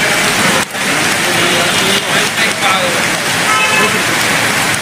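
Steady rain pours onto a street with passing traffic, a continuous wet hiss with vehicles and a brief car horn toot mixed in, and faint voices under the downpour.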